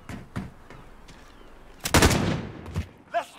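Desert Eagle pistol fire in Call of Duty hardcore Search and Destroy: one heavy, booming shot with a ringing tail stands out amid lighter thumps and game noise, close and loud.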